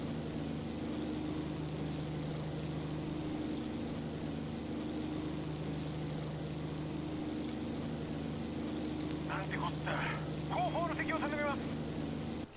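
A Mitsubishi A6M5 Zero fighter's engine drones steadily through a climb in IL-2 Sturmovik, a constant low hum filling the whole stretch, with brief chirpy radio-like blips near the end.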